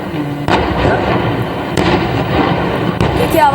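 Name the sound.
gas cylinders exploding one after another in burning truck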